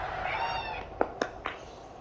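Cat meowing, a drawn-out mew followed by three short, sharp chirps, close and fairly clear over faint background sound from a football video game.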